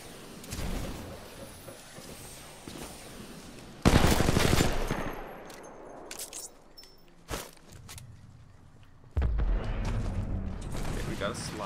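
Gunfire in Titanfall 2 during an Xbox One pre-alpha tech test, bursts of rapid automatic fire with sharp single shots and mechanical clicks between them, loud and close, in separate salvos.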